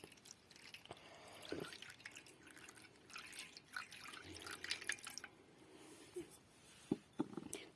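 Water drips and splashes quietly in an irregular pattern, with a few sharper drops standing out against soft trickling.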